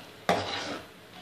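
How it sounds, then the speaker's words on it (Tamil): Roasted wheat rava being stirred into boiling milk and water in a pot for godhuma rava kesari, a short burst of scraping and bubbling that fades into a soft simmer. "இப்போ நல்லா கொதிக்கிற இடத்துல நம்ம வறுத்து வச்ச அந்த கோதுமை ரவையை நல்லா போட்டு நல்லா கிண்டணும்"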